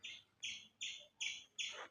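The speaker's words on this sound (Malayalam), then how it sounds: "കാക്കാല അവിടെ കൊതിച്ച് വെള്ളം" Crows waiting near water give five evenly spaced, harsh high calls about every 0.4 seconds, fairly faint and with no talk.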